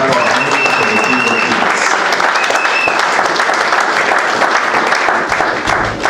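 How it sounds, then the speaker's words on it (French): A church congregation applauding during a Sunday worship service, steady sustained clapping from a full room that carries evenly from start to finish, with faint voices mixed in. "Can we clap our hands for the King"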